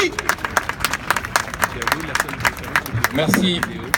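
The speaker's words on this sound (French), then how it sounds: "Un grand merci, sous vos applaudissements encore une fois." Crowd clapping at a rally against terrorism, individual claps distinct and rhythmic rather than a dense wash, with a voice speaking briefly near the end.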